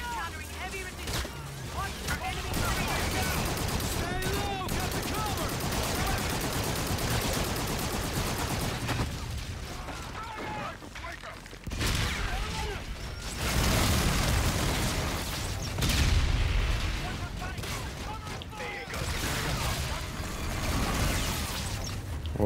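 Dense bursts of gunfire and explosions from a gun in the shooter video game Infinite Warfare, loud and nearly continuous, with heavier blasts clustering midway and toward the end over a busy battle soundscape.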